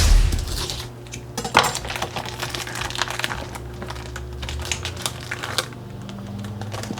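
A pan of pork medallions in creamy Dijon mustard sauce being switched off and covered, with clinks and clatters of cookware and utensils over a steady low kitchen hum, a sharp knock near the start and scattered small rattles afterward.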